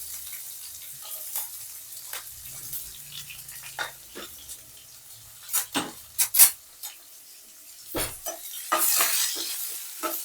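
Mustard seeds, cumin, garlic, curry leaves and onion sizzle and crackle in hot oil, with intermittent stirring scrapes and clinks building louder toward the end.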